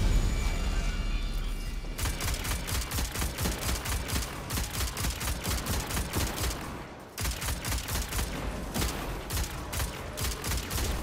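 Rapid video-game gunfire aimed at harpies rattles along in long, steady bursts of evenly spaced shots. A short pause splits the two runs, and the volume stays loud and close throughout.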